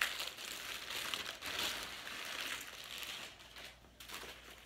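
Plastic mail packaging crinkles and tears as it is ripped open to reach an O'Neill t-shirt, a steady close rustling and crackling that runs without pause, fairly soft, with no talking.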